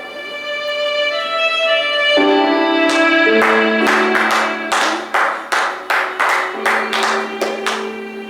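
Hand claps ring out on stage during a play, a few slow isolated claps at first, then a quicker run of sharp claps over a sustained musical tone.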